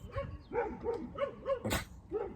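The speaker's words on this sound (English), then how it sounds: "Some dogs are kicking off outside." At a Derbyshire camping and caravanning site, dogs outside give a rhythmic run of about six loud barks, evenly spaced and fairly close, with no voices.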